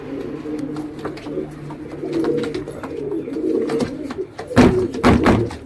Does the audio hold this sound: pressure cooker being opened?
no